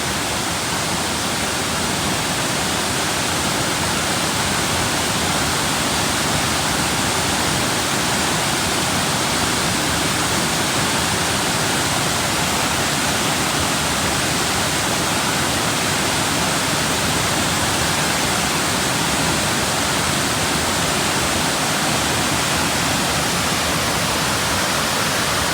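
A small side waterfall at Old Mill Park in Roswell, Georgia pours in a constant, even rushing hiss, steady and close with no pauses.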